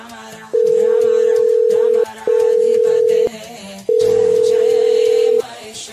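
A phone call rings out unanswered, a steady electronic ringback tone sounding in three long bursts with short gaps, over faint background music.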